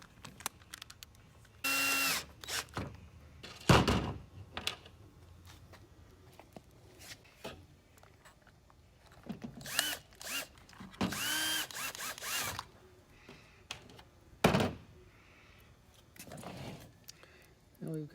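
Bursts of a power drill whir in short spurts, driving small screws with half washers into an electrical box during a light strand replacement, with metallic clinks and a voice talking in between.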